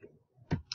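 A mouse click adds a new category to a list of blog categories, heard as one short quiet click with a second faint tick just after, alone in a quiet room.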